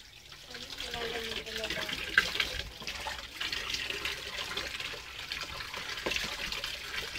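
Water poured and splashing at an old deep well, a wet, uneven gushing and trickling running the whole time, fairly faint, with people talking over it.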